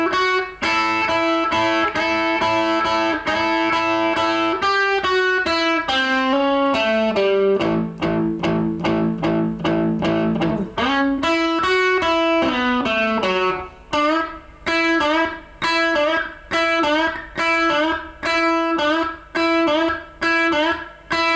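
Electric guitar with distortion plays a song intro slowly, starting with sustained double-stop bends and moving into steady, evenly spaced picked notes, loud and without talk.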